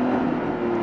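A Lamborghini Revuelto's V12 engine in a 1015 hp supercar, heard as a brief, loud, steady engine drone with a strong tonal hum, close and with no other sounds.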